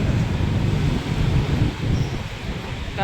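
Strong wind blows across an outdoor pedestrian overpass, a loud, continuous roaring rush with gusty buffeting against the microphone that barely lets up.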